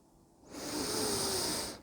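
A single slow breath drawn in through the nose, a soft close airy hiss lasting about a second during a relaxation exercise.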